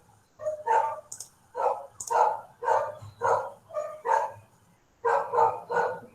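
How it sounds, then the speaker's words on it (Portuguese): A neighbour's dog barks repeatedly in loud, evenly spaced single barks, a pause, then a quick run of three more, close and clear with no talk over it. "Não é meu esse cachorro, é do vizinho, ele late o dia inteiro"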